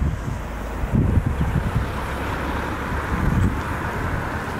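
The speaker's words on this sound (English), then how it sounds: "As you can hear, it's pretty windy" Steady wind buffets the microphone with a low rumbling roar, gusting slightly stronger at moments, no voices present.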